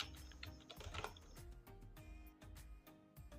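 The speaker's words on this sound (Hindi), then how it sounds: "अब मैं यहाँ पे क्लिक करूँगा और यहाँ पे टाइप कर देता हूँ मैं" Rapid, uneven tapping on a computer keyboard while entering invoice data in MS Excel, close and clear, with a few louder key strikes and no speech over it.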